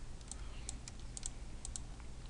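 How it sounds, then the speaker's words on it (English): A cat walks across a computer keyboard, pressing a scattered string of light, uneven key clicks close by against a low hum, with no talking. "Cat, I swear to God, if you walk across my fucking keyboard."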